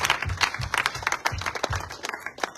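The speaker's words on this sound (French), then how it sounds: "Vamos aplaudir o Senhor." A church congregation at a worship service bursts into rhythmic clapping and applause, a mix of steady beats and scattered claps, lively and close, with no speech over it.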